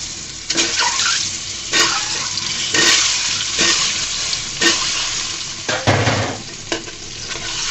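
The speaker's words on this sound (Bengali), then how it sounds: "ডিমগুলাকে সুন্দর করে আমি ভেজে নিব।" Eggs fry one by one in hot oil seasoned with a little salt and turmeric. A loud, steady close sizzle runs throughout, punctuated every second or so by scraping stirs or sharper spits, with no talking.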